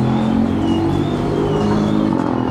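A tuned car engine revs with loud exhaust, giving a close, continuous throaty rumble with a steady droning tone for a couple of seconds and no speech.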